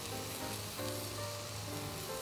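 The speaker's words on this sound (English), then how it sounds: "So here is the beef and the bacon going in." Beef and bacon sizzling in a pot for Beef Bourguignon, a quiet, steady fry hiss with faint humming tones underneath and no talking.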